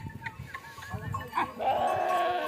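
Sheep and goats gathered at a farm water spot where a shepherd brings the flock to drink, with nearby bleats and animal sounds over outdoor noise.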